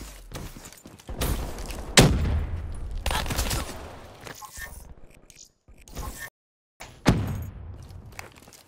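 Rapid gunfire in Black Ops 3: quick clusters of sharp shots and thuds come in uneven bursts, with short silent gaps between volleys.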